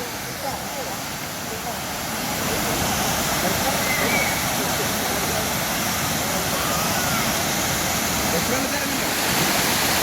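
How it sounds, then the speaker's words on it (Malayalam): Vattai waterfalls, a small waterfall, roaring as a loud, steady broadband rush of falling water that swells slightly after the first couple of seconds, nearby and continuous. "ഇതാണ് നമ്മുടെ വട്ടായി വാട്ടർഫാൾസ്"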